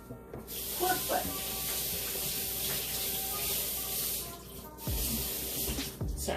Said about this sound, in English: Sorry, I gotta wash my hand really quick.